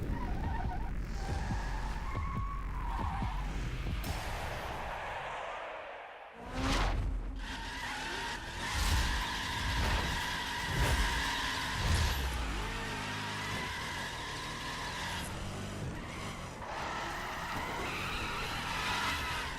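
A Dodge Challenger in a racing video game, its engine droning and revving with tire squeals and skids as it slides through drifts, sustained and loud with shifting pitch throughout.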